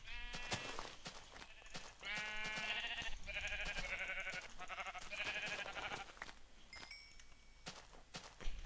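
Sheep in a video game bleat in a run of several wavering calls over a few seconds, with soft footstep-like thuds around them and no speech.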